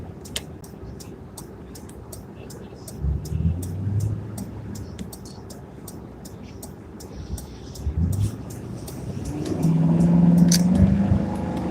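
Car merging onto the 695 highway on a commute, its engine and road noise rising and falling under a low rumble, with brief clicks, swelling as it accelerates near the end.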